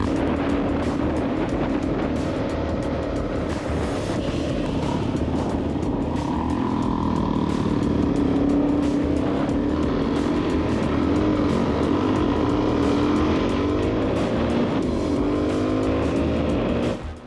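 A trail motorcycle that will only push start rides a rough bush track in hot weather, its engine droning loud and steady throughout with shifting revs and no voices.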